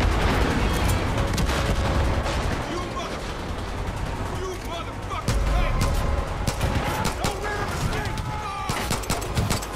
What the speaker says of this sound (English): Big machine guns?